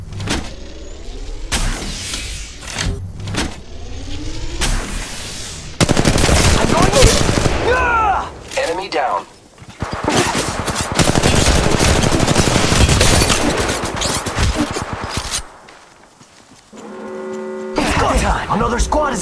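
Gunfire from a squad attack in a ranked video game match, bursts of rapid automatic shots and loud blasts, dense and near, mixed with game effects and brief gaps, with no talk over them.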